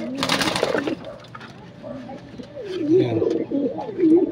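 Caged pigeons coo in low, throaty bursts, with a brief burst of louder rustling near the start and a person speaking briefly nearby.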